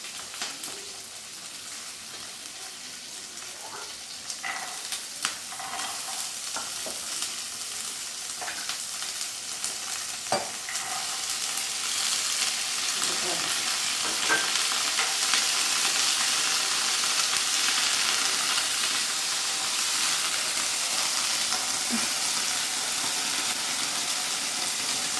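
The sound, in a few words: frying cumin, garlic, ginger, green peas, green chili for paratha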